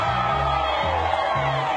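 A crowd gathered on a plaza for an outdoor morning news broadcast with the Dallas Skyline team, a steady broadband wash of cheering and chatter with low droning tones underneath throughout.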